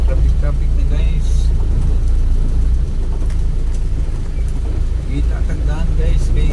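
City road traffic in Iligan rumbles past with a steady low engine drone and wind buffeting, while a person talks over it close to the microphone.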